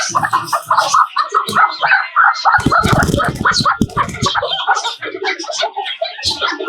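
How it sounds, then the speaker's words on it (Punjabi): Silkie chickens cluck and chatter close by in short, busy bursts, with a few soft coos and some rustling in between. "ਇਹ ਫੈਂਸੀ ਮੁਰਗੀ ਹੈ ਬਾਈ ਅਮਰੀਕਨ ਸਲਕੀ ਕਹਿੰਦੇ ਨੇ ਇਹਨੂੰ"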